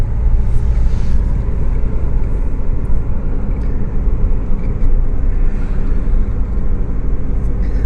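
Car driving through the Ancaster area of Hamilton, heard from inside as a loud, constant low road and engine rumble with no break, and no talk during the stretch.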